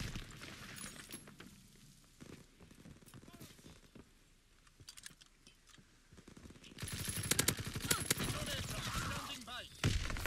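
Rapid bursts of PPSh submachine gun fire in a team deathmatch video game, loud and dense near the end after quieter scattered shots and some talk earlier.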